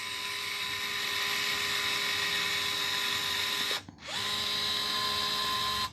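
A SEESII cordless caulking gun runs at its highest speed with a close, steady high-pitched motor whine, cutting out briefly near the four-second mark before restarting and stopping again at the end.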